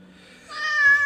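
A 17-year-old cat gives one drawn-out meow that rises and swells toward the end, close and fairly loud against a quiet room.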